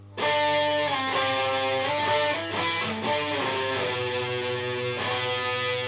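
Distorted electric guitar plays the riff at full speed, a dense, sustained stream of chugging notes and octave hits ringing loud and steady with no voices.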